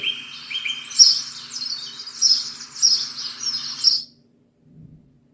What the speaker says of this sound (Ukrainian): Так, це співають пташки.